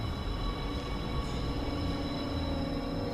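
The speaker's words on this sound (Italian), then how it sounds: "Papà, il treno!" A train rumbles steadily close by, a broad low roar with faint metallic tones and a high whine persisting throughout, no voices over it.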